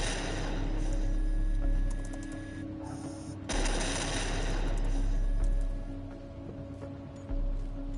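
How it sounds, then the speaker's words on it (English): Airship turrets firing in a Batman video game, a dense, steady rattle of rapid shots over a low engine rumble, with brief pauses between bursts. "I can control the turrets on this ship."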